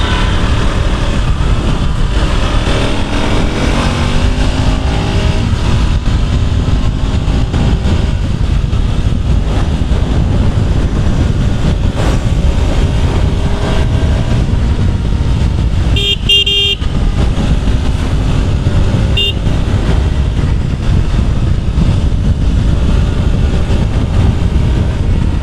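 A 2022 KTM RC 200 motorcycle ridden off-road on rough ground, its engine droning loud and close with shifting revs throughout, briefly broken by a couple of short horn toots.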